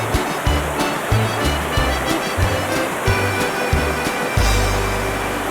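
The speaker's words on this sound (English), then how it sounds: "Here's some real fast water." Fast-flowing water in a small fishing stream, a loud continuous rushing wash heard close by, with a repeating low thumping underneath throughout.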